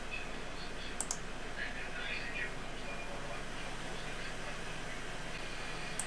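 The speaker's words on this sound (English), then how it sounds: "just going to click on this to open it and launch" A computer mouse clicks while an installation CD for a Linksys N300 RE2000 wireless range extender is launched, with a brief click or two standing out over a steady hiss of room noise.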